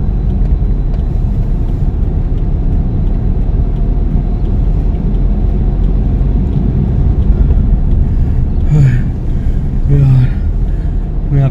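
A car damaged in an attack by a roadside gang drives along a road, a loud steady engine and road rumble throughout, with a voice speaking over it near the end.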